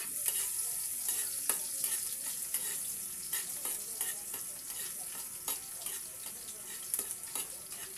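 Garlic sautés in a pan for ginataang santol, a steady close sizzle of frying with repeated scraping stirs and light clinks against the pan.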